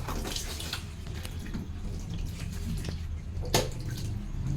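Mushrooms being rinsed in a kitchen, with steady running and splashing water throughout and a brief louder slosh near the end, no voices.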